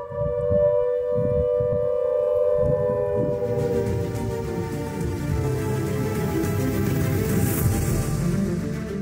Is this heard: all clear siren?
yes